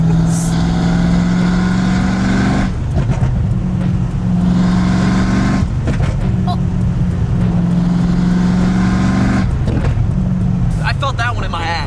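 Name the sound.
Ford Mustang Foxbody revving with SLP Loudmouth exhaust dumps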